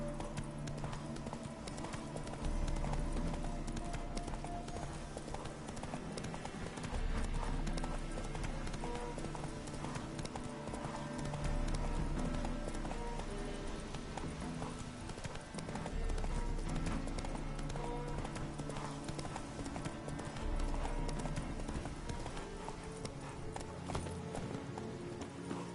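Rhythmic hoofbeats of a galloping horse in The Witcher 3 video game, a steady fast clip-clop running continuously under game music and ambient sound.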